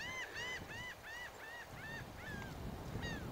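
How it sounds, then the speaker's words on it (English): Repeated honking calls from geese or similar waterfowl at Galveston Island State Park on the Texas coast, about eight rising and falling cries in a steady run, fairly clear over a low, steady outdoor rumble. "A lot of birds out here."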